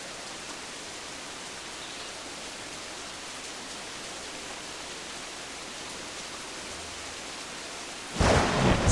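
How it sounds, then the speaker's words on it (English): Heavy pouring rain with a thunderstorm in Assassin's Creed Black Flag, a steady dense hiss of downpour throughout, ending in a sudden loud crack and rumble of thunder close by. "It starts pouring rain"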